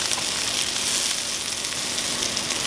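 Food sizzles steadily in hot olive oil in a pan, a loud, continuous close-up crackle with no talking.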